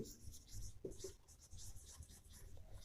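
Pen or marker strokes scratching across paper or a board while writing out a linear equation substitution step by hand, steady bursts of close scribbling with a teacher's voice faintly present underneath.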